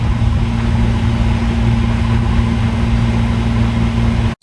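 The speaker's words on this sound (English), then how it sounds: "Obviously, something's gone wrong with this engine." A cruising boat's engine running with a fault off Yamba, Australia, gives a steady, loud, close drone with a constant low hum that holds throughout, then cuts out briefly near the end.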